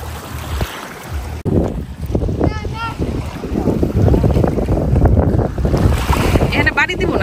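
Small sea waves wash in at Kardamena's Malibu Beach with steady broadband surf and heavy wind buffeting on the microphone, while voices call out faintly in the background.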